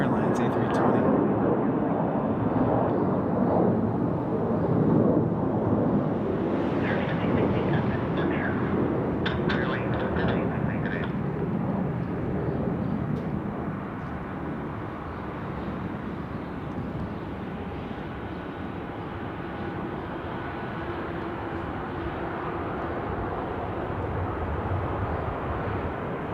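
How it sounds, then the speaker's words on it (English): A Spirit Airlines Airbus A320 airliner passing at an airport, a loud sustained broadband engine roar that slowly eases off, with voices talking over it. "It's like a flying banana missile for that Spirit Airlines A320."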